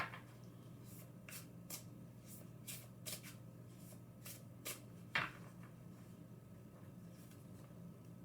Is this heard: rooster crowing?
no